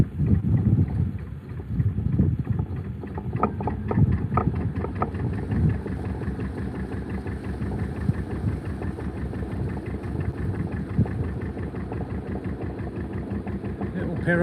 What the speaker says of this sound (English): The wind's taking over now.